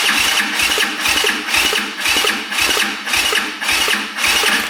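A brand-new quad's engine cranking slowly with the throttle open during a compression test, six loud, evenly spaced laboring starter-and-compression pulses, close and without talk.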